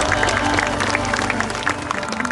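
A church congregation at a revival service in a sports hall claps together, a dense burst of many hands close and loud throughout, with a voice mixed in.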